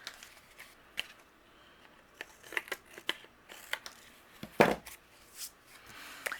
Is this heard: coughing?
no